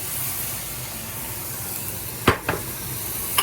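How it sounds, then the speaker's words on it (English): Ginger, red pepper, garlic, green onion and chopped cashews sauté in a pan for kung pao tofu, giving a steady close sizzle with a few sharp stirring scrapes near the end and no talk. "And then the rest of the chopped cashew. Saute that up."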